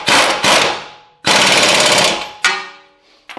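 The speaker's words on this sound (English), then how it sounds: "we can go ahead and tighten down the nut" A Ford 6F50 six-speed transmission axle nut being tightened with an impact tool, loud rattling bursts of hammering, three long runs separated by short pauses and a brief final blip.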